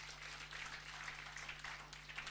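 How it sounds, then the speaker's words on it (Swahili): Faint, distant audience applause fills a church service, a steady wash of clapping sitting over a constant low electrical hum, with no one speaking. "Si mumpigie makofi."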